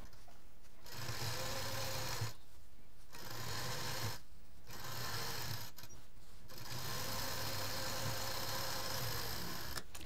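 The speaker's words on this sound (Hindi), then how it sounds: "पहले एल शेप में सिलेंगे और फिर उसके बाद जैसे जैसे सिलाई हुई है वैसे वैसे इसको सिलाई कर देंगे।" A sewing machine stitches a mat from leftover quilt pieces, running in steady whirring bursts of a couple of seconds each, separated by short pauses, close and alone.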